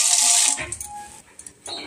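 Water poured from a vessel into a cooking pot of sugar and oil on a stove, a bright splashing pour for about half a second, then small clinks and a soft splash near the end.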